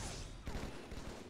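Gunfire from a Halo MCC multiplayer match: a sustained, fairly quiet burst of weapon fire with a sharper shot near the middle, continuing steadily to the end.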